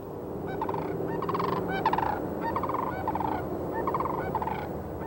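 Sandhill cranes wintering near small lakes in the Texas Panhandle give repeated rattling, bugling calls in overlapping bursts from a flock, steady and fairly loud throughout with no talking.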